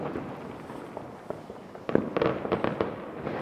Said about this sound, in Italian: Pochissimi fuochi, pochissimi fuochi.